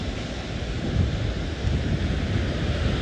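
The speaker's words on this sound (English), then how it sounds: "There's a beautiful ocean breeze." Steady ocean breeze buffets the microphone while surf washes continuously on a beach, a loud, broadband rush with no talk.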